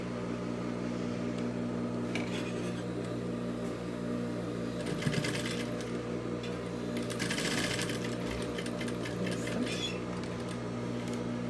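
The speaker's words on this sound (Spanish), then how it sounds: "Y así vamos a coser." A sewing machine stitches a side zipper onto a pair of fashion trousers, whirring steadily and close, with brighter bursts of rapid needle chatter rising and falling over the motor hum.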